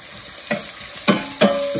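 Asafoetida hitting hot oil as tempering for beetroot rasam, three sharp sizzling bursts, loud and close, each fading into a steady fry.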